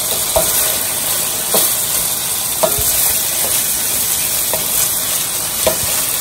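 Ground hamburger and fresh onion frying together in a pan make a loud, close, continuous sizzle, broken by a few soft scrapes of stirring.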